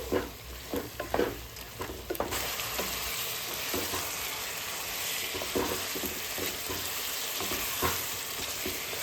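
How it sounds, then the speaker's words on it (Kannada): Garam masala, coriander, cumin and chilli powders fry in oil with a constant close hiss, as several brisk stirring scrapes and knocks come early, then the sizzle carries on alone. "ಇದನ್ನು ಹಾಕಿ ಚೆನ್ನಾಗಿ ಫ್ರೈ ಮಾಡ್ಕೋತಾ ಇದ್ದೀನಿ."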